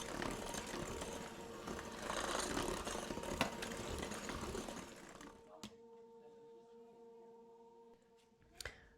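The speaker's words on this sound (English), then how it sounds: "So blend again until smooth." Electric mixer blending cookie pie batter after flour and salt are added, a steady whirring hum for about five seconds that then stops, leaving a quiet room with a few light knocks.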